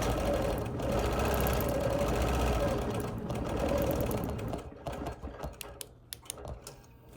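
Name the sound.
quilting machine stitching a Quilt of Valor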